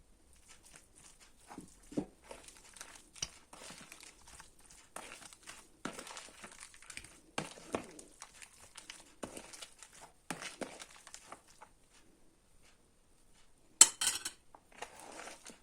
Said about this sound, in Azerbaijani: kərə yağını da əlavə edirəm. Yenidən karıştırıram.